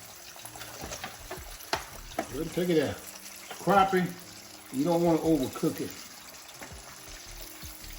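Crappie fish fillets fry in hot grease with a steady bubbling sizzle close by, while someone talks intermittently over the cooking.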